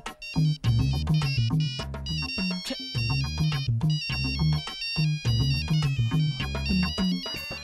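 Mobile phone ringtone playing a bright repeating melodic loop, loud and continuous with short breaks between phrases, in a Hindi-dubbed South Indian action film.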